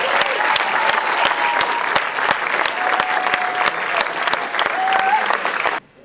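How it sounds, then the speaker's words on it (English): Loud crowd applause welcomes Coach Drew Joyce, brisk and continuous with sharp individual claps over a full roar, cutting off abruptly near the end. "everybody, big round of applause for Coach Drew Joyce"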